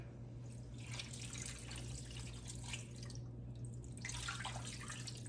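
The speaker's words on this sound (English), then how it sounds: "I'm gonna put a little water in it, not too much" Water trickles and splashes in bursts close by as a little is added to a pot of Haitian-style fried chicken, faint over a low kitchen hum.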